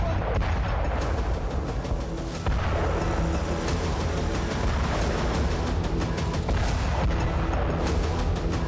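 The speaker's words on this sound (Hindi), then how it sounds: "एक धमाका और पूरा इलाका बारूदी कोहराम से दहला उठा।" Heavy explosions and blasts rumble through wartime footage from the Russia–Ukraine conflict, a dense, loud, continuous roar with repeated booming impacts and crackling bursts throughout.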